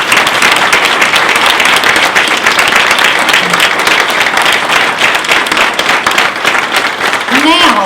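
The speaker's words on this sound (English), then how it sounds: "Let's give them a round of applause." An audience gives sustained applause to standing veterans at a speech by an admiral, with dense, steady clapping, crowd noise throughout and a rising whistle near the end.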